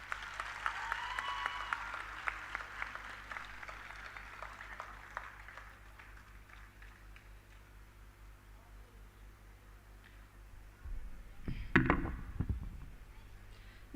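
Hands clap together across a crowd at a paramedic college event, loud at first and then fading to a low murmur, before a short burst of sharp, close claps near the end.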